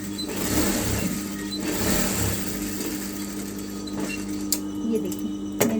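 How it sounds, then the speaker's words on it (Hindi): A sewing machine runs steadily with a continuous mechanical hum and whir while stitching the waistband of a blouse, slowing near the end with a few clicks. "कमर पट्टी लगाने के बाद यहाँ पे एक सिलाई मार दूँगी"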